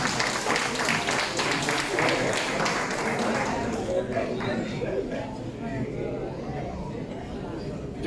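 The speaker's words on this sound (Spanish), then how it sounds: "Dense un aplauso." An audience at a church plenary session claps, steady applause for about four seconds that then thins into chatter and scattered claps.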